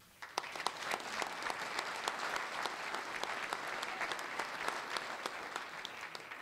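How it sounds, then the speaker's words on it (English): Conference audience applauding in a hall, a sustained, even spatter of many hands clapping at moderate loudness with no one talking. "You should give Chip and the board a big round of applause as well."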